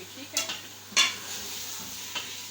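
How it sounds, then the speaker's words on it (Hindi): Beef pieces frying in masala in a pan, with a couple of sharp stirring scrapes over a steady sizzle; a brief voice speaks. "अब इसको सिर्फ 2 मिनट के लिए मैं भूनूँगी"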